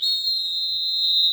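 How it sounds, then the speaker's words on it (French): A referee-style whistle blown in one steady, shrill, sustained blast lasting over a second, loud and close, during a French World Cup 2014 radio broadcast. "Au coup de sifflet, c'est à toi, Mehdi Pierre."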